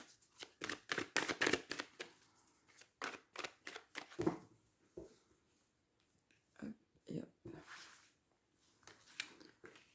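Oracle cards shuffled for a French tarot reading, soft papery riffles and taps in quick clusters, close and quiet, with a few gaps and faint handling noise.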